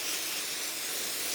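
Adhesive spray hissing steadily from an aerosol can onto an embroidery lining, a continuous close, even whoosh with no pauses.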